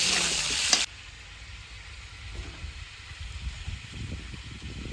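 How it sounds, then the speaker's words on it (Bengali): Potatoes fry in oil left over from frying river rohu fish. After a brief louder burst at the start, a soft, close sizzle with light crackles carries on steadily at low volume. "মাছ ভাজার তেলের মধ্যে আলুগুলো ভেজে নেবো"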